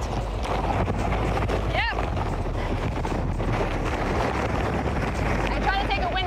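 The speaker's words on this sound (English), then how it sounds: "Here we go with a big gust. There it is, coming in. There's that big gust." Strong wind roars continuously and loudly across the microphone during Category 4 Hurricane Michael, a steady buffeting rush with brief voices talking over it.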